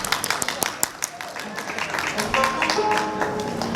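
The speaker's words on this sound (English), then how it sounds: "Round of applause for robots." Comedy festival crowd in Adelaide giving a round of applause, brisk scattered claps building into a fuller patter, with a voice and faint tones underneath.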